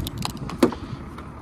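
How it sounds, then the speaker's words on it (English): Door locks on a 1993 Cadillac Fleetwood Brougham clunk once, sharply and close by, against a low background murmur, with a few fainter clicks around it. "I can actually still lock and unlock the car."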